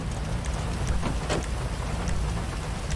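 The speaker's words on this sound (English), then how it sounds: "It's raining, I'm gonna close my doors." Steady rain falls in the video game GTA V, a dense, even patter with a low rumble underneath and no voices.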